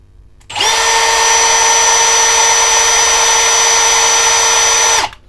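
A Milwaukee M18 drill on a full battery spins at speed 1, around 520 RPM. Its steady, loud motor whine starts abruptly, holds evenly for about four and a half seconds, then cuts off, with no other sound.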